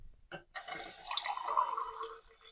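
Descaling liquid pours steadily into a kettle for about two seconds, a close, bubbling gurgle with a brief clink at the start.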